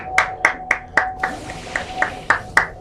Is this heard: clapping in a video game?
yes